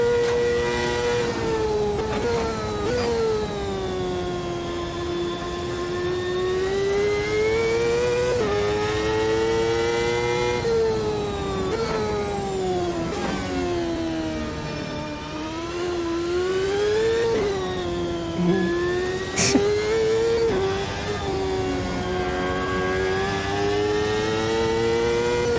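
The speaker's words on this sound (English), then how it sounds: "Toyota engine revved up." A Toyota-engined Formula USA race car in the Automobilista 2 racing game screams through rising and falling revs over gear changes, a loud continuous engine note for the whole stretch with no talking.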